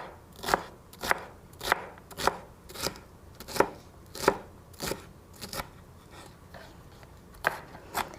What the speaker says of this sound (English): you can just put these together and chop them up